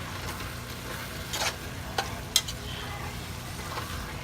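Collard greens with smoked shrimp and catfish being stirred in a pot, a steady low sizzle broken by a few brief scraping clicks of the spoon, close and fairly quiet with no talking.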